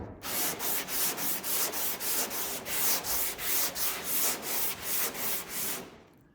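Sandpaper of 320 grit dry-sands primer on the body of a 1976 Trans Am, producing a regular series of about a dozen close, hissing back-and-forth strokes that fade out at the end.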